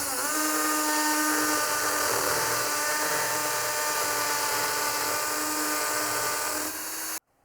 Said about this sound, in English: we're not over drilling into the wall.